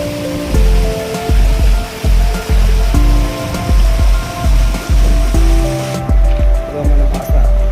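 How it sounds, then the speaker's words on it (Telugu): Water pours and rushes at Vizianagaram dam in a loud, close, continuous roar with regular pulsing surges, and no voices. "చూసారు వాటర్ ఎంతలా పారుతুందో"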